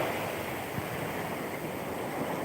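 Ocean surf washes in a constant, even roar at moderate volume, with a faint low bump partway through and no one speaking.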